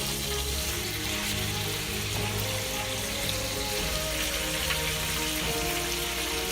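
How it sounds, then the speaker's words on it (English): Extra thick bacon frying in a pan, a steady close crackling sizzle with fine popping spatters that holds at an even level the whole time, no voices. "Now these are extra thick pieces of bacon, so it might take a little bit longer to cook."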